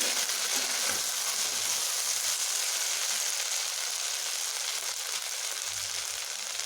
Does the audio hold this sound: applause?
no